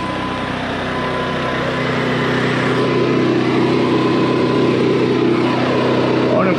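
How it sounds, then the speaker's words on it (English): An RV generator on a Jayco Redhawk 24B motorhome runs steadily after starting, a loud, continuous engine drone with a constant hum close by and no break in level throughout. "So real quick here, I wanted to start your generator for you. There's a start button. She revs up."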